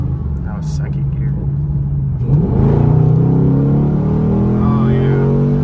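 A Chevrolet Camaro SS pulling out onto a main road, its V8 rumbling loud and close from inside the cabin, then rising steadily in pitch as it accelerates through a gear change.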